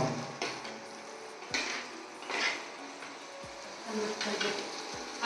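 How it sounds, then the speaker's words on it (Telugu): Tomatoes are stirred in a frying pan over medium flame, a spatula scraping and knocking against the metal in irregular strokes over a low background sizzle. "టమాటాలు వేసేసి ఇలా కలపెట్టాలి బాగా."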